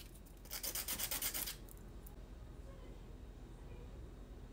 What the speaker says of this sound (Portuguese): Vamos lixar agora.